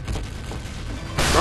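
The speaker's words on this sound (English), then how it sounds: "Ooh, that were a crit rocket." A critical rocket explodes in Team Fortress 2, a sudden loud burst cutting in at the end after a stretch of low rumbling game noise.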